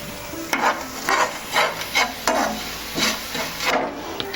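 A spoon stirs crushed cardamom into a pumpkin, jaggery and ghee sweet mixture in a pan, giving soft repeated scraping strokes over a faint sizzle. The sound is close and moderately quiet, with no voices.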